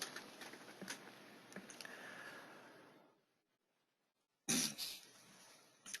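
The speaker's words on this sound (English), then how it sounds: "And your speaker has a bad cough." A person with a bad cough hacks and clears the throat in a quiet room, a few rough bursts, then a pause of silence before another loud cough.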